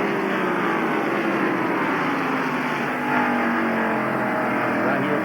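Stock cars race at the 1993 Goody's 500, a loud, continuous roar of engines droning at full speed with a slight swell as cars pass, no talk over it.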